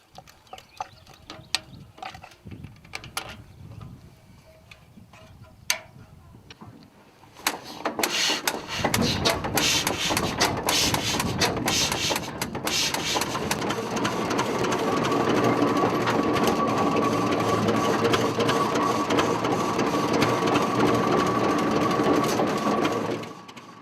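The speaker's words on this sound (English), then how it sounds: "They've managed to get an early 1900s Rumley tractor out to allow us to learn more about" An early 1900s Rumley tractor engine starts up after a quiet, sparse stretch and then runs loud and steady with a dense mechanical clatter that continues to the end.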